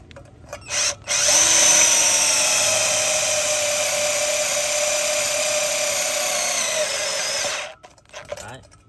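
A cordless 4-cell battery drill bores into thick 5 mm steel box tube, a loud steady high-pitched whine held for about six seconds before stopping, with short bursts of motor noise before and after.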